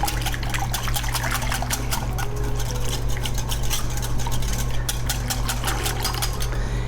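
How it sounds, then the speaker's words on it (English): Melted unsalted butter and vanilla are whisked briskly in a bowl for apple cider donuts, giving fast, rhythmic metallic ticking and scraping that is loud and close, with steady hum beneath and no voices. "I've melted 2 tablespoons of unsalted butter. You can use regular butter. And a teaspoon of vanilla. And we're just going to whisk those together."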